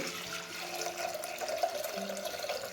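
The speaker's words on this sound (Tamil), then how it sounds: "இதில் தேவையான அளவு கழனி தண்ணி விட்டுட்டு" Rice-washing water pours steadily into a pot of washed lentils for a drumstick-leaf curry, a close, continuous splashing trickle with no talk.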